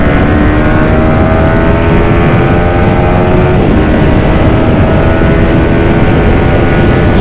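A Bajaj Dominar 400 motorcycle rides along a highway, its engine droning steadily with rising harmonic whine and heavy wind rush, loud and close throughout.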